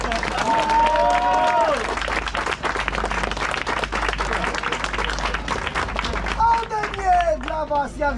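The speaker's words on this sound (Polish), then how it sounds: "Wielkie brawa dla niej!" Crowd applauding and cheering at a Runmageddon obstacle race in Twierdza Modlin, sustained dense clapping with an announcer speaking loudly over a PA.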